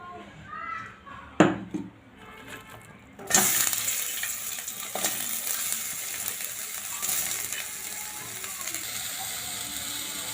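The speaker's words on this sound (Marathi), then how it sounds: "सर्वात अगोदर आपण कांदा भाजून घेऊ" Chopped onion roasts in a pan for a Vidarbha-style jackfruit curry. A short clatter comes first, then a steady, fairly loud sizzle fills the remaining seconds.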